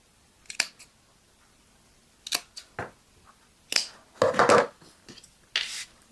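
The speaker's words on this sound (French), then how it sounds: "Moi, je préfère faire les petits crans comme ceci avec une paire de ciseaux." A pair of scissors snips small notches into fabric near the seam of a sewn Gatsby cap, with a series of quiet, crisp, irregular cuts and soft handling noises in a calm room.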